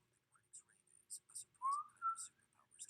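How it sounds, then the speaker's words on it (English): Someone whistles a short, faint tune with a few gliding pitched notes and breathy gaps, close to the microphone, with no talking. "Sorry, I should probably not whistle."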